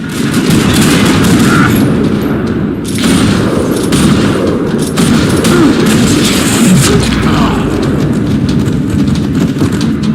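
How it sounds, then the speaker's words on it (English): Dense, rapid gunfire in the video game Max Payne 3, in a parking lot, crackles nonstop, overlapping bursts and booms creating a loud, chaotic battle din. "Another parking lot rattling with gunfire."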